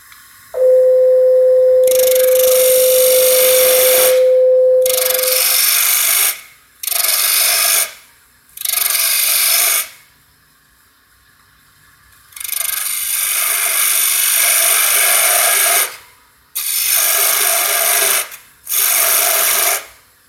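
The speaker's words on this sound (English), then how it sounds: "I'm going to take my parting tool and reduce these tenon." A wood lathe with a parting tool reduces the tenons on a turned wooden column in several separate passes, each a loud, close, scraping cut lasting one to three seconds, with quiet gaps between them and no talking.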